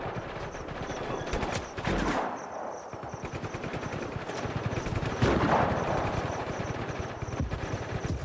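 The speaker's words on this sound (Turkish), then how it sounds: "Yukarıdan helikopter geliyor, bunu ateş ediyor." Helicopter machine-gun fire in the video game Just Cause 3: continuous rapid bursts of automatic gunfire with a couple of heavier impacts, loud and sustained throughout with no talking.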